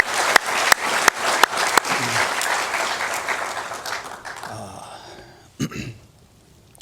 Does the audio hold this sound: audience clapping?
yes